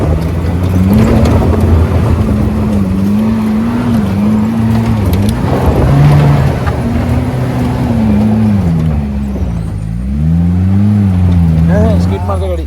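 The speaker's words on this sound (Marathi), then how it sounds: "स्किट मारते गाडी." A safari vehicle on a muddy jungle slope revs hard in long, rising and falling engine surges as its wheels skid, loud and close, with voices talking underneath.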